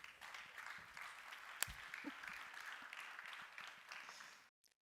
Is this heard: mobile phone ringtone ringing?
no